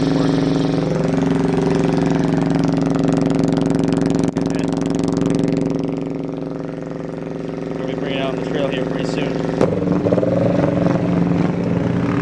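A straight-piped Chinese quad fitted with a homemade PVC snorkel runs at a high idle: a loud, steady, close engine drone throughout, with the tone shifting and roughening near the end.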